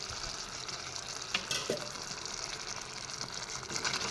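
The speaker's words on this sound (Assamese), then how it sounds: "এতিয়া তল ওপৰ কৰি এনেদৰে লৰাই দিছোঁ।" Chicken curry sizzles softly in a pan as it is stirred, a faint continuous frying hiss with a few light scraping knocks of the spoon and no speech.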